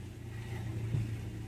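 Manual car engine idling on an incline as the clutch is slowly lifted, a steady low rumble with a slight surge in load near the middle.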